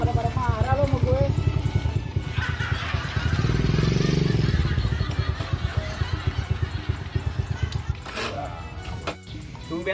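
A motorcycle engine runs continuously with a rhythmic, buzzing pulse that swells and eases, while voices talk over it.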